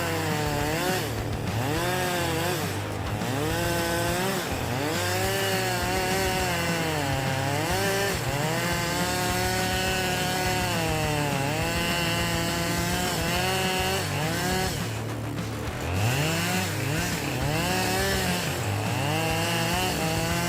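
A chainsaw cuts through wood with a loud, continuous rasping roar and constantly shifting engine pitch as it bogs and revs, close and dominant throughout with no voices.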